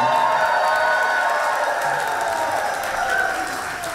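A crowd at an Equality Florida gala in Palm Beach keeps up steady, sustained applause that fills the room, with faint cheering mixed into the clapping.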